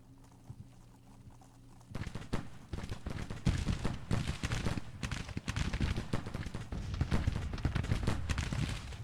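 Musket volleys and artillery fire from a Civil War battle in Grand Tactician: Civil War erupt after a quiet start, dense irregular cracks and thumps rolling on continuously at a moderate distance.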